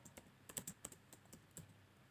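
Quiet, close typing on a computer keyboard as a name is entered, a quick irregular burst of a dozen or so light key clicks.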